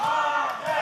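A wrestling crowd cheers and shouts in one brief, steady roar of voices, loud and continuous throughout.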